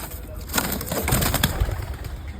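A pigeon coos in low, soft repeated calls at close range, mixed with faint outdoor background noise and a few light knocks; no speech is heard.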